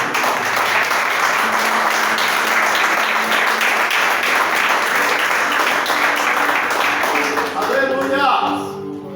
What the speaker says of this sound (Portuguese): Eu aplaudiria ao Senhor Jesus.